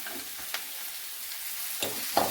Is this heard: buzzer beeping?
no